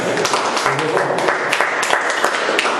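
A church congregation claps in praise to God during a prayer service, sharp rhythmic hand claps up close with voices mixed in beneath them.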